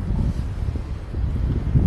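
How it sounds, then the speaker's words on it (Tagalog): Strong wind buffets the microphone during a boat ride at Mina Rashid Marina in Dubai, a steady low roaring rumble that gusts slightly throughout, with no voices. "malakas ng hangin"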